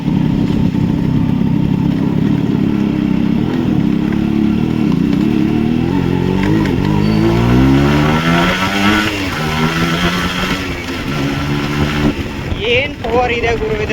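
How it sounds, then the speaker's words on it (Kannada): A Yamaha RX 132cc single-cylinder two-stroke air-cooled motorcycle engine buzzes loudly and close, rising and falling through revs as it accelerates, with someone talking over it. "ಇದರಲ್ಲಿರೋದು 132 cc single cylinder 2 stroke air cooled engine."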